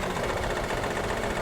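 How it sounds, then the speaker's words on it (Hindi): A Maruti Suzuki WagonR with a K-series engine runs rough while misfiring and vibrating, giving a dense, uneven mechanical clatter and buzz that stays steady and fairly close throughout. "इंजन कितनी बुरी तरीके से वाइब्रेशन कर रहा है और गाड़ी मिसिंग भी कर रही है"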